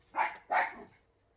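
Two quick barks from a dog in a village, one right after the other, fairly faint and a little distant, then quiet.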